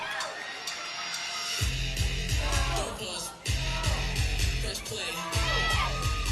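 A crowd at the U.S. National Yo-Yo Championship cheers and yells loudly, with whoops and shouts rising and falling in bursts over a steady roar of voices.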